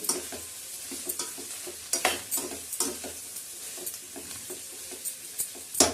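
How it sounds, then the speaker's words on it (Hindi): Cabbage stirred into chow mein vegetables frying in a pan, with a steady sizzle and repeated scraping and clacking stirs at an irregular rhythm, close and alone without voices. "अब इसमें हम पत्ता गोभी ऐड कर दे रहे हैं और इसे भी अच्छे से चला देंगे।"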